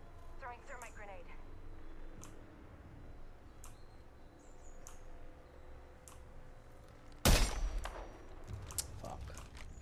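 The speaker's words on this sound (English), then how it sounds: "Getting shot at." Gunfire in Apex Legends, Season 14, breaks out as one loud sharp burst about two-thirds through, set against a steady game-ambience bed with scattered clicks and faint chirps.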